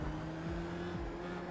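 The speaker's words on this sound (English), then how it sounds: "Had to brake extra hard there" A Formula 3 race car at Spa in iRacing brakes hard, its steady engine drone stepping down in pitch through quick downshifts, loud and close with no talk.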